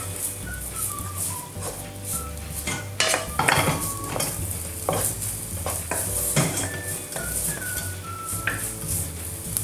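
Minced garlic stir-frying over low heat in a wok, a steady soft sizzle broken by repeated scraping strokes and metallic clinks of a spatula against the pan, close and fairly loud, with no talking.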